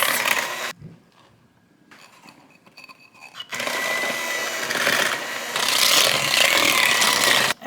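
Thick brownie batter with cocoa powder is stirred by hand in a dish, giving rough scraping and rubbing strokes that drop away briefly near the start and then return as steady, close, fairly loud churning.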